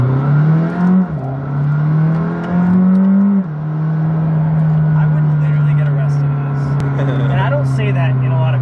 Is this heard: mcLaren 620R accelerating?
yes